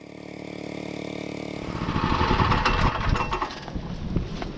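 A sawmill's engine running steadily at first, then growing louder and rougher with a choppy, pulsing clatter as it works harder, heard close and alone.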